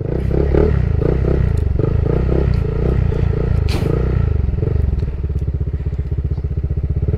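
A Honda PCX 160 scooter runs at high speed with a loud, steady engine drone and buzzing, mixed with wind rush and occasional rattles and clatter, heard close up and with no talk.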